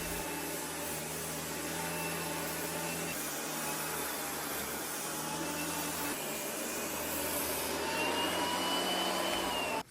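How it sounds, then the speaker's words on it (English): A Pallmann Gecko floor edger sands along the edge of a floor with a loud, steady, close roaring whine and grinding hiss, continuous throughout with slight shifts in pitch. "I'm going to sand this edge here and you can see what you think"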